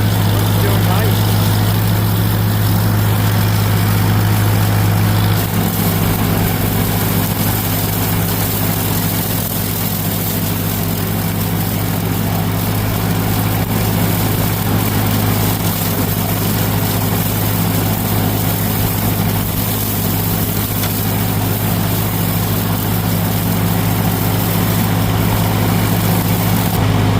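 A repaired lawn tractor engine runs nonstop, a loud, close, low droning idle that holds steady for the whole stretch with a slight shift in tone early on.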